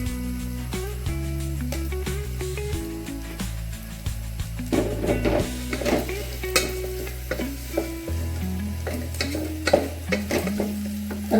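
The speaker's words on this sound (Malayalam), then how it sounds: "എല്ലാം ഒന്ന് വഴറ്റി തരുന്നു" Ingredients sautéed and stirred in a pan, with repeated scraping strokes of a spoon over a constant close sizzle and a low steady hum beneath, and no talking.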